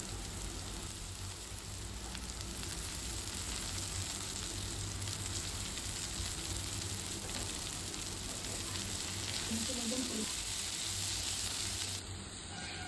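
Chopped chilli, potato, carrot and beans fry in oil with a faint, steady, rain-like sizzle that holds evenly the whole time, without speech.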